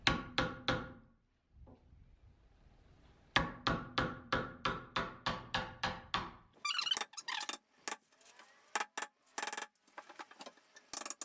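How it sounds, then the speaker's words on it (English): A chisel cuts a hinge recess into a wooden shed door, heard as sharp close taps in quick regular bursts, followed by a pause and a later run of scattered scraping strikes, with no voices. "we're going to take a chisel and cut that out"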